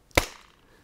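A low-pass filtered machine gun recording gives a single dull, muffled boom: one short thud with a brief fading tail, alone and fairly close.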